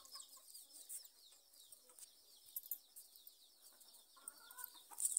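Chickens forage around a farm, giving faint scattered clucks and short calls at a distance over a quiet outdoor background with no talking.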